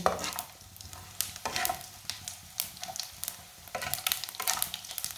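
Whole cumin seeds roast in a pan over low heat, giving a soft sizzle broken by repeated stirring scrapes and light rattles, close by and fairly quiet.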